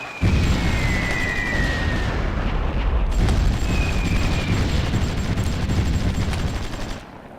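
Battle gunfire in the strategy game Supreme Ruler Ultimate, with dense, continuous rumbling volleys and booms, a brief break near the middle, and a fade at the end.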